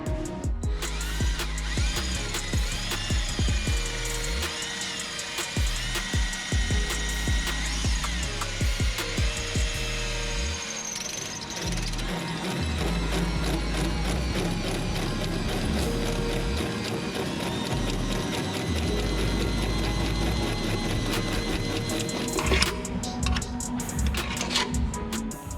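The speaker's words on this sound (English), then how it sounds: "And then we'll cut it with the hole saw" A hole saw grinds through very hard steel on a Toyota Supra fitted with a Judd V10 and sequential transmission, a loud, close, continuous whining and rattling cut that runs on with only brief dips and no talking.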